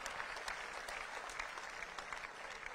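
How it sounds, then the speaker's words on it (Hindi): Applause from an audience at a National Sports Day event honouring relay athletes, a steady dense clapping that fills the whole stretch without a break, loud and even with no talk over it. "जोरदार तालियां इन सबके लिए।"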